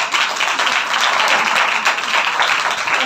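Sustained, dense audience applause at a Mother's Day gathering, loud and steady throughout with no voices over it.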